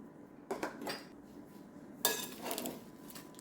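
Warm roasted Brussels sprouts with lemon and Parmesan tossed in a dish, producing a few short bursts of clattering and scraping against the bowl between quiet gaps.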